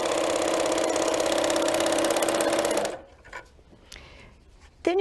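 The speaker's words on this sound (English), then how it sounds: "I am just guiding my foot along the other side of that serger pin tuck" A serger sewing machine stitches a pin tuck with a fast, steady mechanical whir for about three seconds, then stops, leaving quiet handling clicks and rustles.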